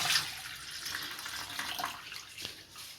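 Tender coconut water poured through a strainer into a container, a steady close splashing trickle of liquid running for a few seconds with no talk.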